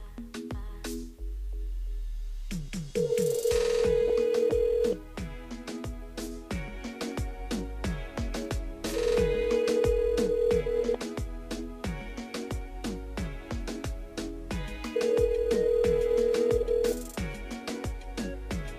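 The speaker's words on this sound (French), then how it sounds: "On appelle Gaël." A telephone rings three times during a phone call on a live radio broadcast, each long electronic ring standing out over background music and station jingles.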